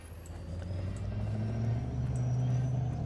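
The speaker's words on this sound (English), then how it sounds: "Chevy just whistling away. I tell you what, this Duramax could keep your ears busy just listening to all the whistles" A Chevy Duramax truck engine in Farming Simulator 22 hums at a steady low idle, with thin whistling tones riding above a rising rumble that grows slightly louder.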